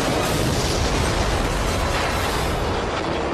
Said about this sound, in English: The earth shakes as a factory storing compressed gas explodes